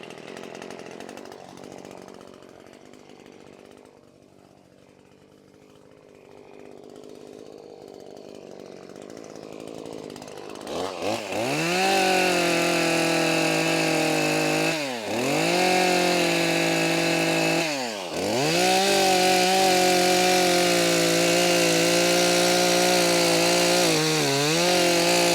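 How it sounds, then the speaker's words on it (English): A small chainsaw revs up and bites into wood, running loud and close with a few brief dips in pitch as it cuts, no voices. "So there's that way with the chainsaw."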